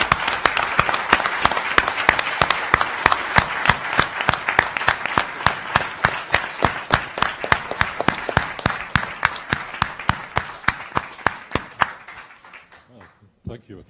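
A conference audience applauds organiser Einar, a room full of clapping that builds into a rhythmic, near-unison beat of sharp hand claps, holding steady before thinning and fading out at the end.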